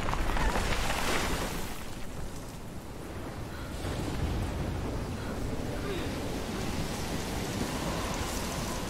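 Heavy rain pours steadily in a thunderstorm in the video game Life is Strange, with a dense broadband hiss and a low rumble swelling near the start.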